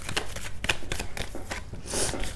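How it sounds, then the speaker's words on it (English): Tarot cards are shuffled by hand in a quick run of crisp riffling and flicking, close and clear, with no speech. "While I was shuffling, I could see this card."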